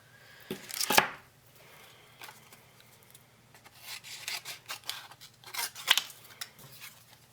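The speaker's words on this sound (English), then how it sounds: "I'm going to go ahead and cut those out." Scissors snip through shiny craft paper in a few crisp, close cuts, with two sharp louder snips standing out, followed by softer rustling and shorter clips as the pieces are trimmed out.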